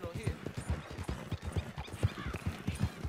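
In Red Dead Redemption 2, a horse's hooves clop in a steady, quick trotting rhythm. The hoofbeats sound fairly close but quiet.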